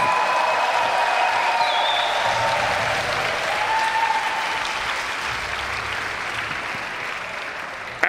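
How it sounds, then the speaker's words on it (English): Crowd at a BMX contest final claps and cheers loudly and continuously for a rider, a dense roar of applause that fades slightly toward the end. "Make some noise for the San Diegan rider, Parker Heath."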